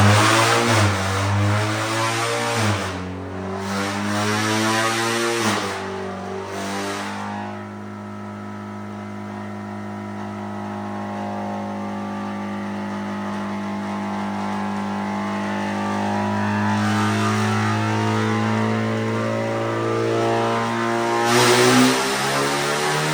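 A 2019 Acura ILX with a K24V7 engine revs on a dyno while sitting in neutral, climbing through sharp revs, easing back, then holding a long steady drone and swelling again, loud and near.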